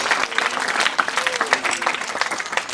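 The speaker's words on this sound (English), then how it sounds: "Let's give a big round of applause to our talented students for this wonderful speech." Applause for students' speech at a school Independence Day celebration: a small crowd claps briskly and unevenly, with crisp individual claps standing out, fairly close and continuous for a few seconds.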